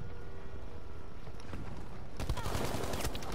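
Gunfire sprays at the player in the Battlefield V video game, beginning after a stretch of low background rumble with a sudden flurry of rapid, close shots near the end.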